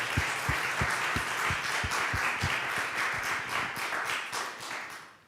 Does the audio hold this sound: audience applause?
yes